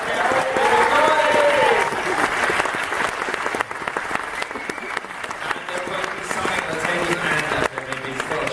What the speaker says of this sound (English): So please give me a massive round of applause.